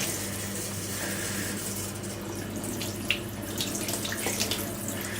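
Tap water running steadily to rinse conditioner out of a synthetic wig, a close, continuous splashing stream with faint shifting splatter as the wig moves under it.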